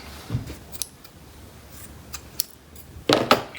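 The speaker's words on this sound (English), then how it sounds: "Cut your thread" Scissors snip through finger-knitting thread while a Halloween spider decoration is being made, giving a few quiet, crisp clicks spread apart and a closer double snip near the end, in an otherwise quiet room.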